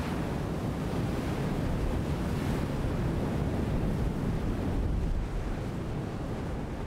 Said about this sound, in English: In stormy weather, crashing waves and strong wind send salty seawater up onto the golf